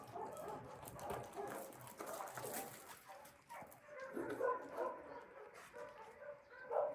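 A rescued abandoned puppy, left three days in the rain, gives faint whimpers and small yips scattered over a low background.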